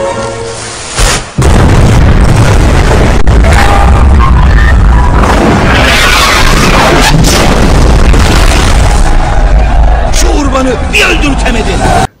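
The Basilica cannon at the siege of Constantinople fires in a film scene: a massive, sustained roaring boom that fills the clip with loud rumbling and blast debris, following a brief quieter moment.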